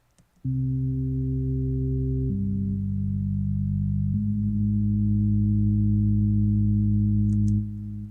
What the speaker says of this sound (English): now I'm just gonna play the bass part by itself.